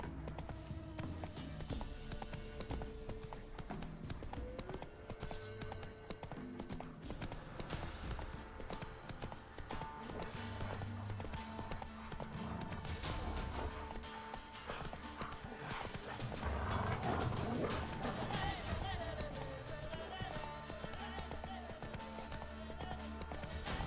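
Roach, a horse in the video game Witcher 3, gallops with rhythmic hoofbeats that run continuously over a game music bed, with a neigh partway through. The sound stays moderately faint and even.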